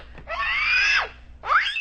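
A young girl screams loudly in two sustained, high-pitched bursts, the first long and the second shorter, with a brief pause between them and no other talk.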